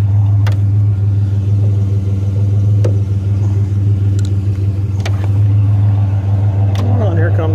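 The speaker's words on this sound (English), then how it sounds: "here comes a school bus" A school bus rolls past during a roadside scrapping run, its steady low engine rumble droning throughout with a few clanks and knocks over it.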